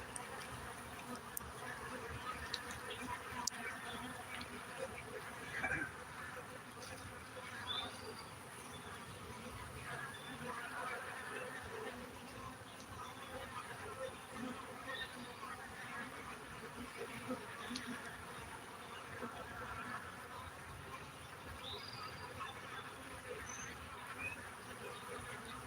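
Honeybees buzz around a backyard hive during a solar eclipse, a soft, continuous droning hum with occasional individual bees passing nearer, faint and steady throughout.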